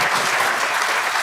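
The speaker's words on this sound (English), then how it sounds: "You can clap for them, please." Dense, steady applause from a large audience at the KNUST 58th congregation ceremony, clapping for the graduating students, filling the hall evenly without pause.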